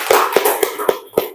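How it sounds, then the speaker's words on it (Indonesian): Five sharp hand claps land at an even, steady pace, close and clear, applauding a student during a group lesson, with no talk over them. "Tepuk tangan untuk Paki."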